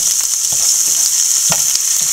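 Mustard seeds, dried red chilies, green chilies, onion and ginger frying in hot oil, a loud steady sizzle with small pops and a few stirring clinks, alone with no talk.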